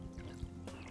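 Water from two cups poured into a pot with sugar while making cappuccino foam syrup, a brief steady splashing pour heard close by with no talk.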